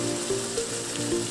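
Masala paste with almonds roasts in oil in a kadhai, giving a steady, close sizzle and crackle with no talking.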